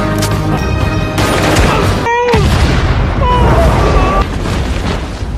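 A loud explosion in an action film, a broad boom bursting out over a dense, busy soundtrack with voices and music running underneath.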